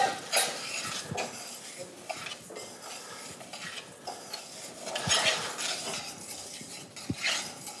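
Risotto rice being stirred in a pan to coat it with fat, a spoon scraping and clinking against the metal in close, irregular strokes with soft sizzling beneath, no voices.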